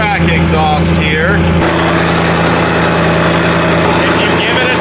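A twin-turbo Ford Mustang S650 switched into track exhaust mode settles into a loud, steady, rumbling idle, with a brief raspy change in tone early on before the engine drones on evenly.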